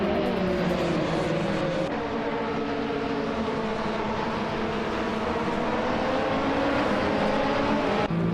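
Race car engines drone steadily in an AI racing video game, with a field of cars including a 28 KT M Crossbow GT4, their overlapping tones holding loud and continuous throughout, with no talking.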